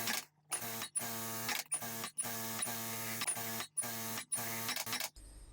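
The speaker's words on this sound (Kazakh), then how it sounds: "Енді қарама-қарсы бағыттағы сызықтарды осылай тігіп шығамыз" Sewing machine running in rapid bursts as it stitches crossing diagonal lines across quilted fabric, close and steady, each run of whirring stitches broken by short pauses, with a soft clunk at the very end.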